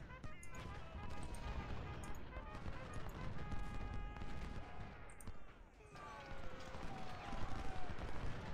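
Massed rifle fire in Ultimate General: Civil War, a dense crackling fusillade of overlapping musket shots rolling through the scene, mixed with game music and shouted commands.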